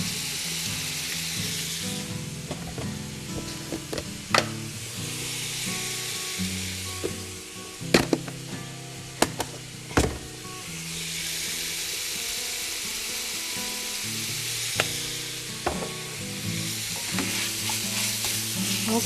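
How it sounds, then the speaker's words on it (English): Eggplant stuffing sautés in a pan, a constant loud sizzle that swells and eases, punctuated by a few sharp utensil taps and clinks. "saute this up like we normally do."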